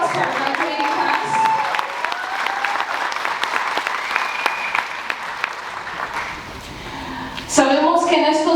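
The audience at a justice and leadership academy graduation claps for the graduating class with a few cheers. Steady clapping runs under a speaker's voice, and a burst of louder voices comes near the end.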